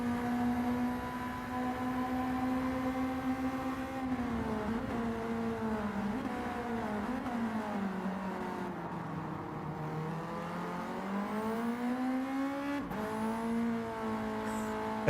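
A Ford Sierra race car engine in a sim racing game, heard onboard as a loud, continuous drone that climbs and dips in pitch through gear changes and throttle shifts, with no voices over it.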